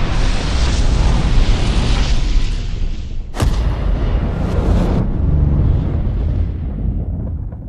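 Detonating cord goes off inside a gun barrel with a loud, sustained roaring blast, a sharp crack near the middle, then a slowly fading rumble.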